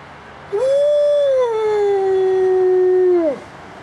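A single long, loud wolf howl from an enclosure, close by and alone, rising at the start, holding a steady drawn-out tone for nearly three seconds, then dropping away at the end.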